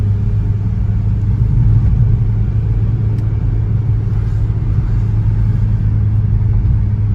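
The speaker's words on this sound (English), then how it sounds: "Holding in third here, just coming around the turn." A 1999 Audi A3 driving on the road held in third gear through a turn, with a steady, droning engine rumble and road noise at constant level, no gear changes or revving heard.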